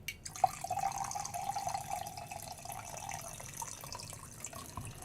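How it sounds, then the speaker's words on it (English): More coffee being poured into a cup, a thin, steady trickling stream that runs for a few seconds, then tapers off, with faint background clatter and no speech. "Speaking of coffee stations, I gotta pour myself a little bit more."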